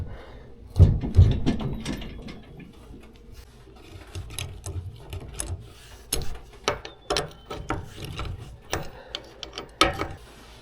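Trailer wheel lug nuts being loosened and removed, close ratcheting clicks, metallic knocks and clanks in irregular bursts, with a heavier thump near the start and no talk.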